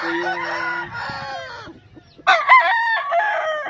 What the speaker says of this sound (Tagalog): Bali ito po yung broodcock na super sweater.